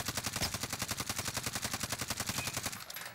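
Rapid automatic gunfire in the video game Warzone: a loud, close, steady stream of evenly spaced shots rattling for about three seconds before easing off at the end.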